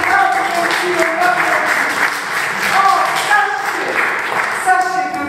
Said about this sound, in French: On l'applaudit maintenant.